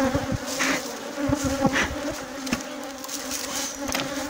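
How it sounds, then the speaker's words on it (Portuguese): A swarm of bees streams out of a beehive, with a steady loud buzzing drone close to the microphone and individual insects whizzing past intermittently, no voices. "Se tiver abelha saindo assim, pessoal, é um sinal."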